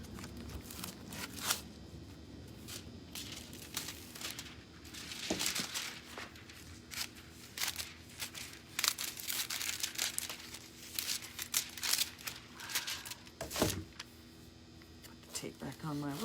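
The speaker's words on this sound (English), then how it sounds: "be careful where I'm throwing foils because I keep forgetting there's open foil adhesive over there" Craft foil being crinkled and handled during a glitter jar project, soft irregular crackles and rustles up close, with occasional louder crunches and some tape-like sounds.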